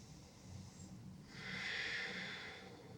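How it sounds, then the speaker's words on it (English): A slow, deep breath is drawn in and let out during a yoga pose at the wall. It is soft and close, with a brief stronger airy exhale in the middle. "So you're taking a few deep breaths here."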